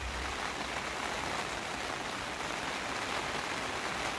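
Steady rain falls in a garden, a soft, even hiss of drops on leaves and ground continuing without break throughout.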